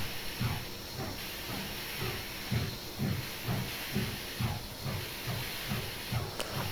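PRR S1 Duplex 6-4-4-6 steam locomotive in Train Simulator Classic, giving a steady run of deep, heavy exhaust chuffs under a constant steam hiss.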